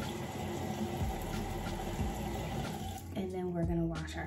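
Water runs steadily from a bathroom tap into a sink throughout, close and continuous, with some faint background noise.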